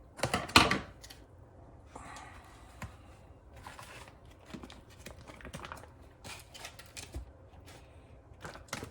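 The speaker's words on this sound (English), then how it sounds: "Take your scissors, cut the fish out." Close, crisp snips of scissors cutting through the plastic packaging of a salmon fillet, a sharp burst at first then irregular rustles and crinkles, no talking.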